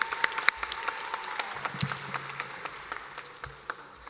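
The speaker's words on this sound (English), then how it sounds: "Let's give a final round of applause for all the competitors in that category." Audience applause at a state awards ceremony for young inventors' competition, a light, fairly quiet patter of scattered claps that holds steady for about four seconds.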